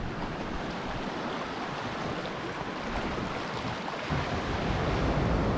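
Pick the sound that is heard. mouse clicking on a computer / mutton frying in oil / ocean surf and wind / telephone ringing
ocean surf and wind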